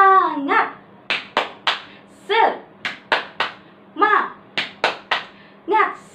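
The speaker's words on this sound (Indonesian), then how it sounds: "Sekarang kita akan melakukan tepuk semangat bersama-sama." First-grade children in a classroom perform a rhythmic spirit clap: crisp, close hand claps in a set pattern, broken up by short chanted voices between the clap bursts.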